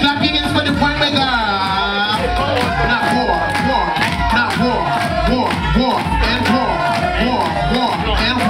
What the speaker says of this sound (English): clap your hands for the runway girl